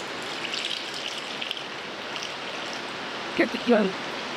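Ragi milk is strained from ground ragi and squeezed out by hand, giving a soft, steady trickling wash of liquid followed by a couple of brief wet squelches and drips near the end.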